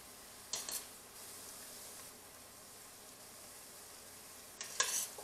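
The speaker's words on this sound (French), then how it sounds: "On va montrer nous bien apprendre à faire friture." Food deep frying in oil for a Creole recipe, a quiet steady sizzle throughout, broken by two brief clattering bursts of utensils or pans near the start and end.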